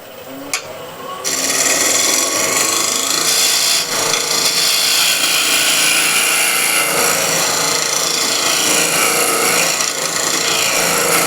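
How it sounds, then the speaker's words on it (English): A hand tool rasps steadily at a housing hole to enlarge it, a loud continuous scraping and filing that runs almost the whole time after a brief quieter start. "what I need to do is enlarge this housing hole"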